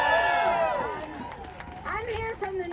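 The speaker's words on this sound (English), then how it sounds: "give yourself an applause" Street rally crowd at a People's March against the Trump presidency in Manhattan, clapping and cheering loudly, with shouted voices and chatter mixed into the noise.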